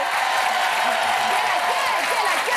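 A studio audience on a TV talk show applauds a singer, with dense, continuous clapping filling the room while a voice speaks over it.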